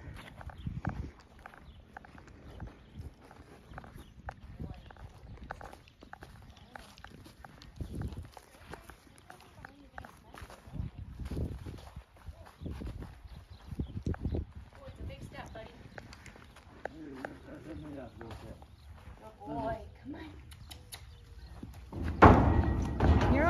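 A horse walks with irregular clip-clopping hoof thuds, close and moderately loud, under faint murmured voices, building to a louder burst of stamping and rustling at the end.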